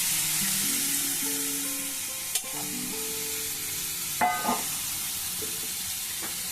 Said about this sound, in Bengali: দেখুন গরম হয়ে গেছে যে তেলটা, এভাবে করে আমি দিয়ে দিলাম গাজরগুলো সব।